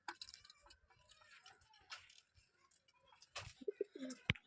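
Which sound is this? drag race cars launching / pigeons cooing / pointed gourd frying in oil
pigeons cooing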